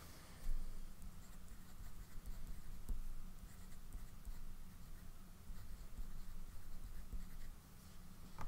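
A fountain pen writes on paper, a faint close scratchy scribble of nib strokes continuing quietly and steadily over a low room hum.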